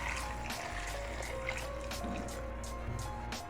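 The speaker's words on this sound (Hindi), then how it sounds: "अब इसके अंदर मैं 2 गिलास के करीब पानी डाल दूंगी" Roughly two glasses of water pour steadily into a cooking pot of goat trotters, giving a continuous soft, close trickle with no talk over it.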